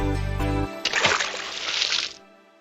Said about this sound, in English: he lost his balance and fell in the well